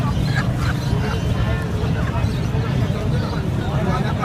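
Ducks quack intermittently amid a busy outdoor bird market in Karachi, Pakistan, under a steady babble of crowd voices and nearby talk.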